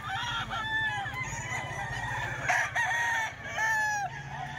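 A three-year-old lemon-colored gamecock crows several times in a row, each call rising and trailing off, moderately faint, with low clucking and farmyard murmur between the calls.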